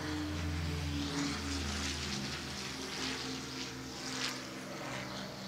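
A Dassault MD 311 Flamant twin-engine aircraft flying over a Bastille Day parade in Saint-Quentin, a steady loud droning engine roar with a pulsing low propeller hum that holds throughout.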